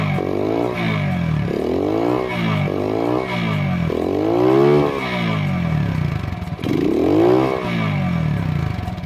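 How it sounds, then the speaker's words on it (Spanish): A 2021 Ranger 150FS motorcycle engine idles and revs repeatedly up and down in a steady pattern of rising and falling surges, close and fairly loud, with no talking. "Ahí está la motito encendida. A ver, vamos a escucharla."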